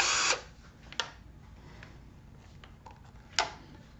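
Worn-out battery pulled from a Ryobi 18V power tool, giving a sharp plastic click and scrape at the start, a short snap soon after, faint handling rattles, and a final louder click, all close and sparse.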